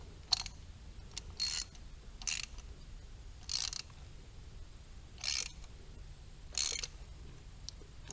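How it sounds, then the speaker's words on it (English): A ratchet tightens the spark plugs on a 2010 Volvo XC60 in six short, separate bursts of clicking, fairly faint and spaced about a second apart over a quiet background. "Now we're not going to He-Man tighten these either."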